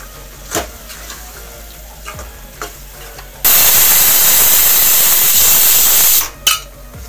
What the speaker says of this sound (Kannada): ಆಫ್ ಮಾಡ್ತೇನೆ, 3 ವಿಜಿಲ್ ಆಯಿತು